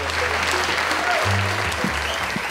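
Audience applause for a music teacher at an autumn bluegrass workshop, steady clapping from a crowd with a voice talking over it.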